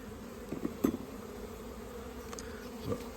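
Honeybees hum and buzz close by at an open hive with medium-depth boxes, a steady drone broken by a few short louder bursts as the caged queen is brought over.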